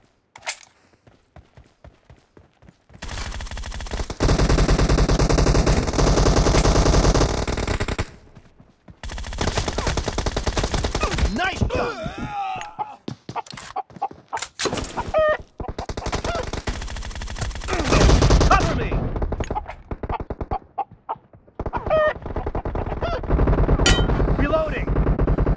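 Loud, sustained automatic gunfire in the mobile battle royale game PUBG Mobile, long dense bursts separated by short pauses and a few isolated shots, filling most of the stretch.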